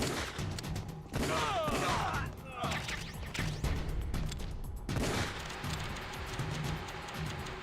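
Gunshots in Metal Gear Solid: The Twin Snakes, a burst of sharp shots followed by clattering impacts and scattered reports against ongoing game noise.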